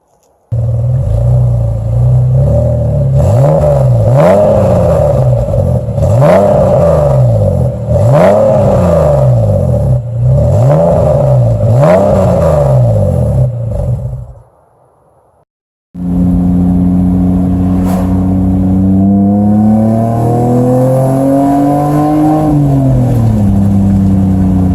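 A loud BMW E46 car engine with a raw, throaty 3-inch straight-pipe exhaust revs repeatedly in rhythmic bursts, cuts off briefly, then restarts and climbs through another long rev.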